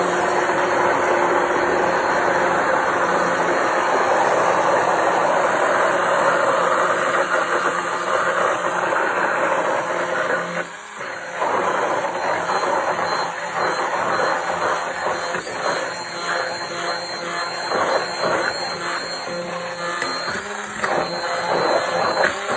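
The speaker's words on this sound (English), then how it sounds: "And then you'll start blending." A loud, steady motorized whir from an immersion blender making mayonnaise runs continuously with a dense grinding texture, shifting slightly in pitch as it works; no talking over it.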